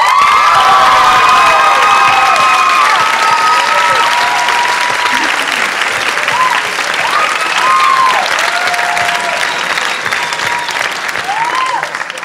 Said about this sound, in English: we need one more round of applause for our unsung hero